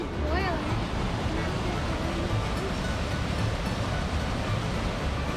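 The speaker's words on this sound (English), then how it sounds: "Also just sounds really cool listening to the waterfall underneath the ice." A waterfall running beneath ice on a snowy trail gives off a continuous, muffled rushing roar, broad and steady throughout, with a faint voice briefly over it.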